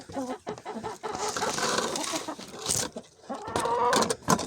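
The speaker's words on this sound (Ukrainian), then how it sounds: "Маємо три півники, яких ми залишили." Roosters and hens in a farmyard flock, clucking and squawking in irregular bursts with one sharp higher call, fairly close and moderately loud, with no one speaking.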